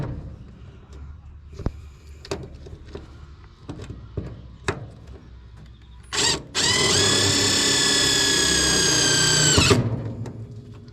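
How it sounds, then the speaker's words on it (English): A handheld power drill drives a couple of self-tapping screws to fix a TJM twin air compressor mount in a vehicle: a short burst, then a steady, loud whirring run of several seconds, near and alone, after scattered handling clicks. "just zing him down with a couple of self tappers"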